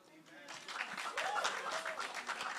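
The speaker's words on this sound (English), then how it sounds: "Round of applause for him." An audience claps for a poet at a poetry festival, with applause building after a quiet start and continuing as a fairly dense patter of hands, with some faint voices mixed in.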